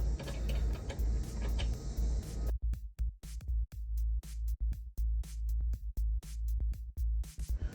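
Nuts are tightened onto a hidden Stealth Hitches trailer hitch on a Kia EV6: a steady buzzing drive for a couple of seconds, followed by a long run of sharp, irregular ratcheting clicks close by.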